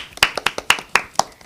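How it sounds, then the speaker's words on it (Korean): Classroom students clap in applause for a classmate, a quick series of crisp, close hand claps at a steady brisk rhythm, about eight in a second and a half, with no talking. "박수!"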